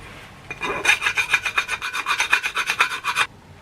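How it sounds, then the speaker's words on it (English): A hand file rasping burrs off a freshly drilled hole in metal, about fifteen quick rhythmic strokes in a row, close and clear, with no talking. "And it's even easier to remove the burrs."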